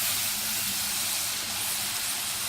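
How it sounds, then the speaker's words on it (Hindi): French fries frying in hot oil, a steady soft hiss and sizzle continuing evenly and fairly quietly with no talking. "तो मैं ये देखिए कितने अच्छे फ्राई हो रहे हैं"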